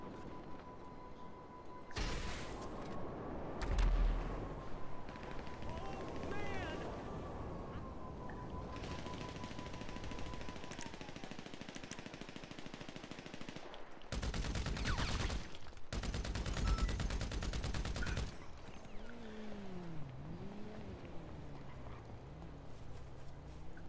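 Gunfire in Grand Theft Auto V, with bursts of rapid shots and heavier blasts over a continuous game soundscape of engine drone and tonal hum, moderately loud with no talk.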